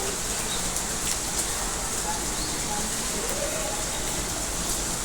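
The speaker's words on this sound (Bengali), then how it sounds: "বৃষ্টি হচ্ছে, বারান্দায় এসে একটু দাঁড়ালাম" Steady rain falls outside a balcony, a dense, even hiss of drops on surfaces that continues without a break, close and moderately loud, with no clear voices.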